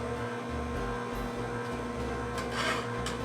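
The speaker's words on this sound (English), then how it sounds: "Okay, Barb, now you can turn on the juicer." An electric juicer runs while pineapple is fed through it, giving off a steady whirring, grinding hum with a brief rougher scraping burst near the end.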